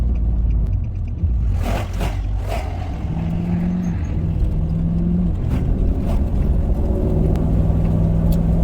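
A Nissan Y62 towing a caravan on a scenic country road in north-west Tasmania, with a steady loud road and engine drone, tyre rumble and low hum sustained throughout, and no talk.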